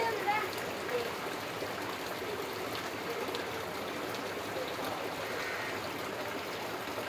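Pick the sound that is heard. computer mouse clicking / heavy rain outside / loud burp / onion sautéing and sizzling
heavy rain outside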